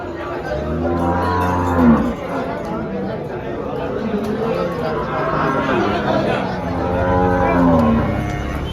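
Cattle moo loudly in long, low calls, two clear bellows over a steady hubbub of crowd chatter at the busy Dhule cow market.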